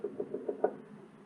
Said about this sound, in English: Did you hear a knock?